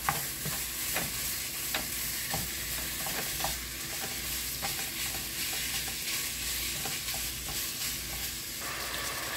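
80/20 ground beef sizzles in a pan with a steady, moderate frying hiss, punctuated by occasional utensil scrapes and taps as it is stirred, close and without speech.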